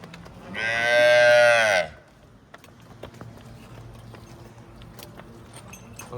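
A Friesian cow on a dairy farm lets out one loud, drawn-out moo, then the barn settles into a low, quiet background with faint knocks.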